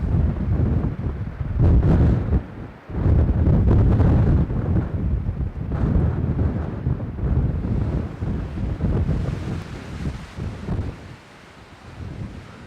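Strong wind at Cape Horn roars and buffets the microphone continuously, with gusty surges and rumbling low-end noise, no voices present.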